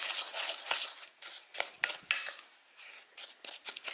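Baking soda mixed by hand into sunbutter buckwheat cookie batter, with quiet, irregular scraping and stirring strokes of a utensil against the bowl, close up and without talk.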